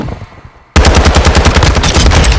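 Rapid automatic fire from the ISO Hemlock rifle in a Call of Duty-style shooter, a loud close burst of fast even shots that cuts in abruptly after a brief quieter moment.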